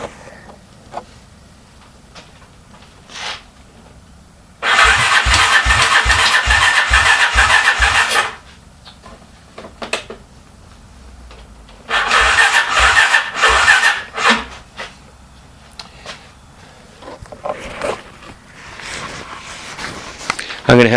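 Honda Foreman 350D ATV in ratty condition being cold started after two years sitting: two long bursts of rapid starter cranking with engine chugs, quiet pauses between, and a few later sputters and clicks.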